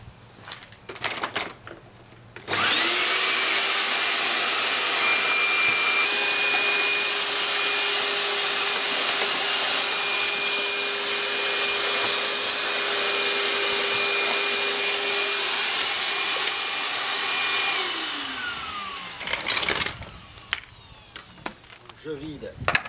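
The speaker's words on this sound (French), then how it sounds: "Donc dans un premier temps, on va passer un coup d'aspirateur." A vacuum cleaner with a crevice nozzle runs close and steady for about fifteen seconds while car wiper arms are cleaned, starting and stopping abruptly, with handling noises before and after.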